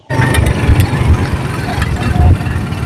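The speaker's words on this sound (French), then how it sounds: "C'est à bord d'une moto que nous nous y rendons, non sans quelques difficultés" A motorcycle engine drones steadily and loudly on a rough ride to Ngassa village near Maroua, Cameroon, starting abruptly and holding a continuous mid-pitched rumble.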